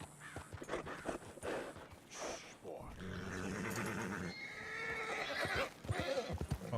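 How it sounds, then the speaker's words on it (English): A horse whinnies in Red Dead Redemption 2, spooked by nearby cows, with repeated shrill neighs and snorts mixed with clip-clop hooves, while a person talks over the game sounds. "Oh, it's scaring my horse, whatever it is."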